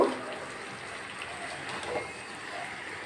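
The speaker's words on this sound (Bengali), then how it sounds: "এর মধ্যে এবার আমি পরিমাণ মতো জল দেব।" Water poured into a pan of chicken curry, a steady soft gushing splash that runs for a few seconds, close and fairly loud.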